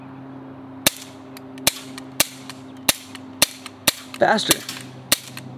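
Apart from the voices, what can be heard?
gunshots fired by a young shooter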